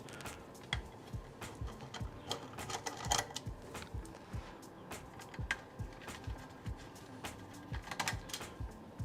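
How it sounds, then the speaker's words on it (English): Screws being loosened on the front panel of a printer chassis give quiet, irregular clicks and ticks of a tool working the fasteners, close by and fairly faint. "there are just 2 screws in each corner, top corner, so we're going to loosen those up"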